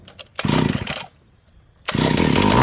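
Auction chainsaw being started: a few quick pull-cord rasps, then a loud rough burst, a brief lull and the two-stroke engine catching and running loud and close.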